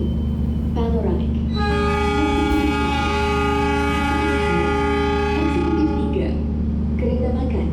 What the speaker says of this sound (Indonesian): Argo Bromo Anggrek diberangkatkan tepat sesuai jadwal menuju tujuan akhir